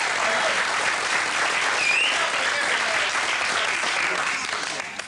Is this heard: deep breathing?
no